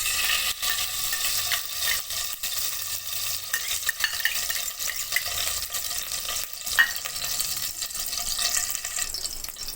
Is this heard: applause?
no